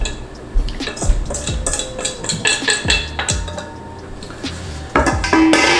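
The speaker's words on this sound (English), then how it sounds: "gonna just mix all that deliciousness together into this bowl" Banana bread ingredients being mixed in a bowl, with a utensil scraping and knocking against the sides in irregular clacks and clinks, some sharp hits standing out, close and loud with no talking.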